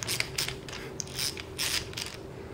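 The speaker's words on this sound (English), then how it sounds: "So now what we're gonna do is we're gonna remove this screw here." A screw is backed out of a SureShade retractable shade drive being repaired for disengagement, giving faint, close ratcheting clicks and creaks in short irregular bursts with no talking.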